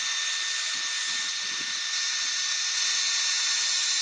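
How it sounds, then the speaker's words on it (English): A steady, hissing blast of air runs continuously from start to finish at a constant level, like a hairdryer running close by. "Here's a hairdryer."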